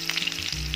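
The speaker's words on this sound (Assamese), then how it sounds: "কেৰাহী তেল গৰম হৈ গৈছে। সেই তেলতে পিঁয়াজ দিছোঁ," Onion sizzling as it hits hot oil in a kadai, a steady close crackle with no talk, cooked for a capsicum and potato dish.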